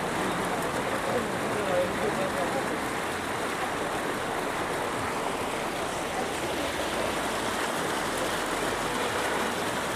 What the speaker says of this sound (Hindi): और देखिए पानी कैसे चल रहा है,